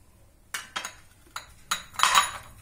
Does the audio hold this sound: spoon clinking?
yes